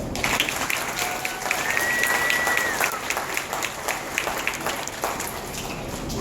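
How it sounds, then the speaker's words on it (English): An audience at a fish tale show gives the mermaids a big round of applause before their deep dive, with dense, sustained clapping and crowd noise filling the whole stretch. "Let's set them off one more time with a big round of applause"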